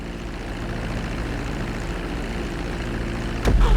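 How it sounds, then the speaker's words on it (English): An airplane taxiing off the runway in the video game GTA 5, a steady droning propeller engine hum that swells slightly louder near the end. "Now let's get the plane off the runway."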